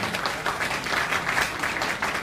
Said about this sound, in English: let us clap our hands because of our victory from the Senate